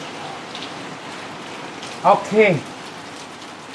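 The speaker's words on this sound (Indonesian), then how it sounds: "Tadi kita kehujanan, ini masih kedengaran suara hujannya ya." Steady rain falls outside as an even hiss throughout, with a brief spoken word near the middle.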